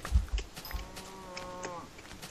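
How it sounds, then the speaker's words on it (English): Cows moo in a blocky sandbox video game, with a couple of low, moderately loud moos at the start followed by fainter game sounds. "More cows."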